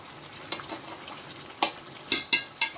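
Chicken fries in oil and ghee in a pan, a soft steady sizzle punctuated by several sharp scraping clinks of a spoon stirring against the pan, close and moderately loud.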